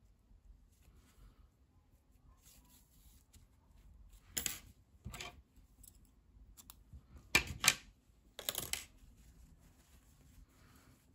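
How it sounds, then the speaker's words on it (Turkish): Scissors snip embroidery thread on a hand-stitched flower worked onto a shoe, giving a few brief, crisp cuts spread over a quiet stretch, close and fairly soft, with no talk. "Artık ipliği kesiyorum burada."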